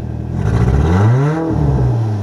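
A field car's engine revs up with a rising then falling pitch, loud and close, slightly rough as if misfiring, with no talk over it.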